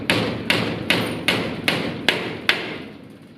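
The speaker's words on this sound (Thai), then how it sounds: "เจาะเสร็จแล้วก็ตอกตะปูเข้าไปครับ" Hammer blows drive nails into pre-drilled wood, about seven evenly spaced thuds with sharp attacks and short ringing decays, close and loud.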